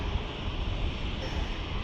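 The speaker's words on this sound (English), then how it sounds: "there's the EasyJet arriving in from Prague" An EasyJet airliner arriving from Prague at Manchester Airport, heard as a steady, broadband jet roar with wind buffeting, holding level throughout without clear rise or fade.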